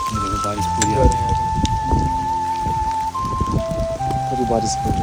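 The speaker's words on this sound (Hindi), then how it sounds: "बारिश पूरी आ रही है," Heavy rain pours down on a Himalayan trek to Chipla Kedar in a dense, steady patter, with a background melody playing over it.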